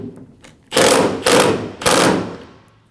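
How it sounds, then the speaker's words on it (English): Bolt on a 2019-2025 Ram 2500 tailgate damper being tightened: three loud, close bursts of ratcheting or impact-driver rattle, each lasting about half a second, separated by brief pauses. "going to get that bolt nice and tight"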